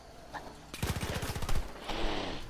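A rapid burst of automatic gunfire in Far Cry 5, a fast string of close, loud shots lasting under a second, then a second rougher burst shortly after.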